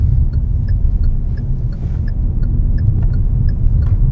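Cabin sound of a Hyundai i20 Magna car driving through a turn: a loud steady low road rumble and engine drone, with a faint regular ticking, likely the indicator, heard over it.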